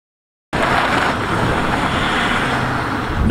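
A Range Rover L322 with the 3.6 TDV diesel engine being driven, heard from inside as a steady, loud broadband road and engine rumble that starts abruptly after a brief silence and holds constant.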